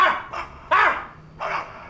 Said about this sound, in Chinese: 啥破狗叫什么玩意儿呢？ 大半夜搁这嗷嗷叫